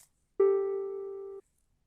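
A tin whistle sounds one clean, sustained low note, roughly a G, lasting about a second and alone against silence.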